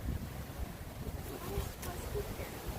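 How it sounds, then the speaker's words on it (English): Wind buffets the microphone on a riverside hiking trail at Yates Cider Mill in Rochester Hills, Michigan, a steady low rumbling roar throughout, with faint voices underneath. "It's a little windy out, so hopefully the sound quality is okay."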